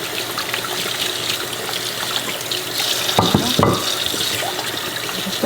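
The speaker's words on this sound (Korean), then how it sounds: "이렇게 문질러 주기만 해도 이 메주가 깨끗하게 다 씻어진답니다" Tap water runs steadily into a sink while meju, fermented soybean blocks, is scrubbed and washed by hand, the flow broken by brief splashing and rubbing sounds, with no talking.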